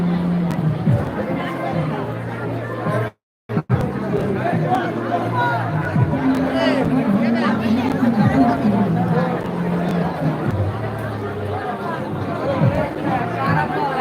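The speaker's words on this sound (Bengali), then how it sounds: "এখানে অনেক ভিড় রয়েছে আজকে" Dense crowd chatter fills the Kishoreganj trade fair grounds in 2025, a continuous murmur of many voices close by and around, with a nearer speaker talking over it and one brief dropout.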